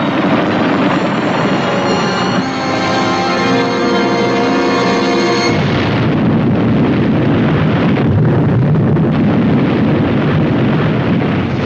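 A huge, roaring explosion rumbles on loudly and continuously, shifting into a deeper, turbulent roar partway through with no voices.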